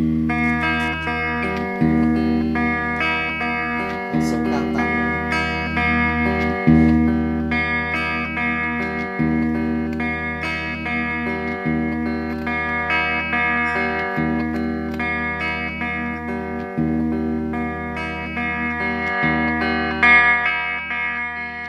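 An electric guitar plays through a Marshall VS265 amplifier with chorus and delay engaged, strumming sustained, shimmering chords in a steady repeating pattern, loud and close, with echoing repeats trailing each stroke and no voices.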